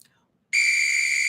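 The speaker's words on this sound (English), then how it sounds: "And I have the football whistle." A football whistle blows once in a single sharp, steady, shrill blast that starts abruptly after a short silence and holds to the end.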